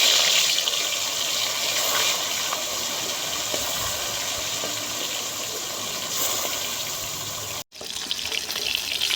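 Salt-and-turmeric-coated foli fish hit hot mustard oil in a kadai, producing a loud, steady sizzle with one brief cut near the end.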